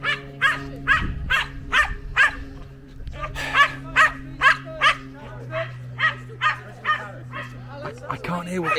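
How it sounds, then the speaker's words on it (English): A dog barks repeatedly in quick, regular bursts nearby at an outdoor parkrun event, pausing briefly before another run of sharp barks, with a voice faintly underneath. "there's a noisy doggy over there"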